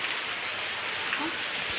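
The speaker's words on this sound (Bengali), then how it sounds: "বাইরে যত ঝমঝট বৃষ্টি হচ্ছে" Steady rain hissing evenly with a dense, continuous patter on surfaces, fairly loud and close, with no pauses.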